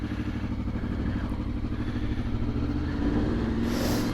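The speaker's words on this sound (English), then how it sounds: "the sound is incredible. It's a Honda VFR V4 engine" A 1995 Honda VFR 750 V4 motorcycle engine runs steadily up close, a deep throbbing rumble with a slight rise in revs near the end.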